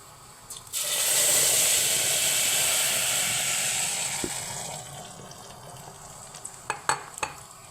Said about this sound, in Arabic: معانا حلة على النار، حطينا فيها حتة سمنة ساحت، هننزل عليها بايه؟ بالطماطم.